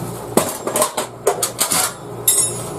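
A two-pound claw hammer drives 30 cm tent pegs into snowy ground outside a house, a series of sharp metallic clanks in uneven bursts, close and loud, with a few quicker taps between heavier strikes.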